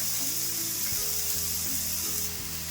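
Dosa frying on a hot pan with ghee, giving a steady, even sizzle with soft crackle and a low hum underneath. Close and continuous, with no voices.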